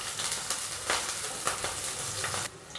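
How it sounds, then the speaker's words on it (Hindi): Green chilies sliced lengthwise and finely chopped garlic fry in hot oil for noodles, a dense crackling sizzle with a few louder spits, close and unbroken until it drops off near the end. "इसमें डालेंगे 3 हरी मिर्ची लंबी स्लाइस में कटी हुई, बारीक कटी हुई लहसुन। 1 मिनट तक हम दोनों को भून लेंगे।"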